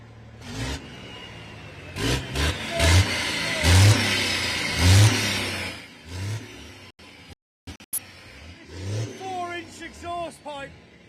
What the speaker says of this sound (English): some revving of the engine